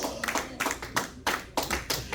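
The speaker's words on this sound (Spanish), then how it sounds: "Ese aplauso déselo al Rey de Reyes y Señor de Señores." A church congregation claps at a worship service, loud, close bursts of hand claps falling in a loose, uneven rhythm, with a faint voice now and then underneath.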